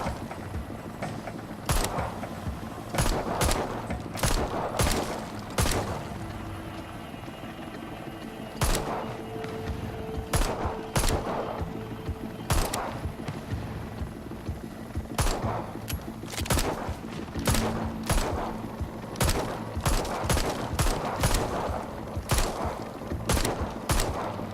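Gunfire in the VR video game Arizona Sunshine, sharp shots fired one after another in irregular clusters and rapid bursts, loud and close over a low background hum.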